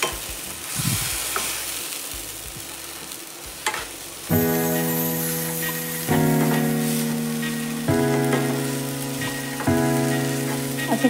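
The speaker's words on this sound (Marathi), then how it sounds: "मस्तपैकी असं फ्राय करून घ्यायचं." Grated mango frying in a pan for a sweet mango preserve, a loud steady sizzle with stirring scrapes that swell in bursts as the pan is worked, close up and alone.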